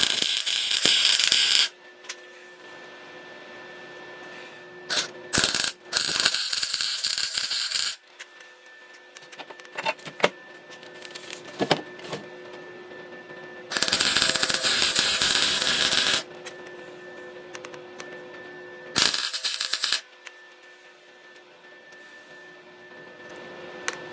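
Welding on a Triumph T100 Scrambler motorcycle frame, its powder-coated inside burning off as smoke: several loud bursts of harsh, crackling buzz, each lasting a second or a few seconds, with a quieter hum between them.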